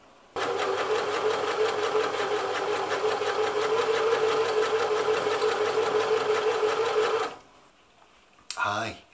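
A sewing machine runs steadily for about seven seconds, stitching along the raw edge of trouser fabric to keep it from fraying, then stops abruptly, followed by a short clatter.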